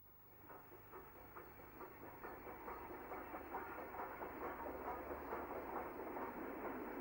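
A 1960s British railway breakdown train trundles through Trent Junction, its rumbling, clattering run building gradually from faint to a steady, moderately loud roll with rhythmic wheel clicks.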